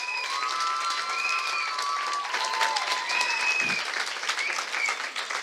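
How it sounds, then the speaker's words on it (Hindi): A church congregation claps steadily throughout a worship service in India, dense sustained applause with a few cheers and whistles rising above it. "Come on, honor him, love him, clap for him."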